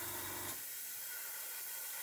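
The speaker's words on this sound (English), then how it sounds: "Just spraying straight at the moment" An airbrush sprays paint onto a 1/35 scale ICM CH-54A Tarhe helicopter model kit, giving a steady close hiss that carries on after a low rumble underneath it stops.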